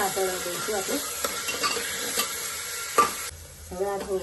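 Chopped carrot and vegetables are stirred and sautéed in a pan for kadhi-khichdi, with steady sizzling, scraping spoon strokes and a few clinks of utensil against the pan, close and clear with no talking.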